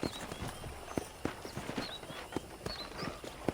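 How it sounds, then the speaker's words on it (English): Horse hooves clip-clop at a steady walking pace in Red Dead Redemption, moderately close, over a faint outdoor ambience with a few high chirps. "I picked out a fine horse for you."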